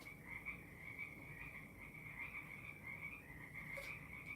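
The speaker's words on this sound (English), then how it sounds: "There they are, the frogs." Frogs at a pond croak continuously in a dense, steady chorus, a rhythmic trilling that stays fairly faint and distant throughout with no talking over it.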